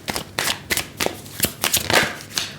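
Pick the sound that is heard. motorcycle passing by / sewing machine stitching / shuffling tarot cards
shuffling tarot cards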